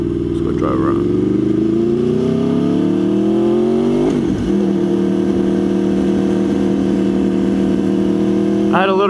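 A loud, close Aprilia Tuono V4R motorcycle engine climbs steadily in pitch under acceleration, drops briefly at a gear change, then pulls on at a sustained high drone while riding.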